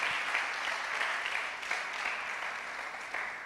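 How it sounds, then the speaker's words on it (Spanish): A church congregation claps at a sermon, a steady wash of applause heard from a distance, even and sustained for a few seconds, slightly faint. "Más fuerte ese aplauso para el Señor"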